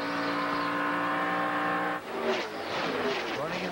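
NASCAR Winston Cup cars race at Indianapolis Motor Speedway in the 2002 Brickyard 400, a loud high engine whine that drops as a car sweeps past, followed by rougher roaring engine noise and crowd, with commentary over it.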